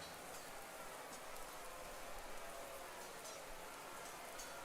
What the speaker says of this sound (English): The rain makes it difficult to see and smell.